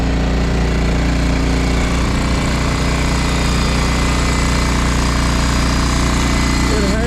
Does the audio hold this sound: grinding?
yes